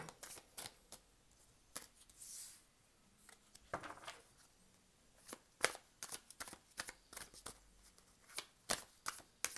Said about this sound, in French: Il y a beaucoup de cartes dans ce jeu.